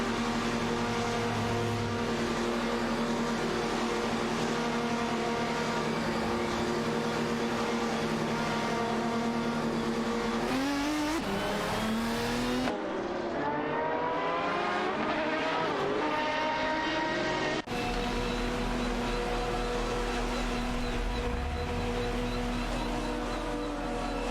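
Race cars, including a Honda, roar continuously in an AI-driven racing video game, their engine pitch rising and dropping through gear shifts and passes, with no talking.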